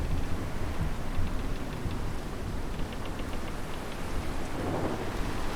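Thunderstorm with steady heavy rain and low rumbling thunder on a stormy sea, a continuous dense wash of noise with no voices.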